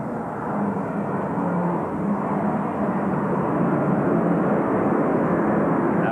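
Airplane passing over a ballpark during a 1985 Braves–Mets baseball game: a steady, broad low roar of engine noise that holds loud and unbroken throughout, slowly swelling toward the end, with no talk.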